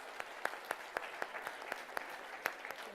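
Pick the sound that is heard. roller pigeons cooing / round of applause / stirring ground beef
round of applause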